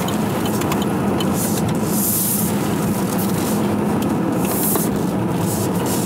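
A car on a test drive, one that runs on electric power, accelerates hard with a steady, loud whine and rushing road and wind noise filling the cabin throughout, with no talking.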